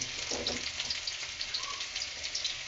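Sliced onion and crushed garlic fry in a hot pan, giving a continuous close sizzle with small crackling pops and no voices.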